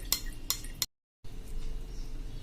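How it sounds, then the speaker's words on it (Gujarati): Homemade ghee made from cream in a pressure cooker is pressed through a strainer with a spoon, giving three quick metallic clinks, a moment of silence, then quiet scraping nearby. "આ રીતે આપણે બધું ઘી ગાળતા જાશું"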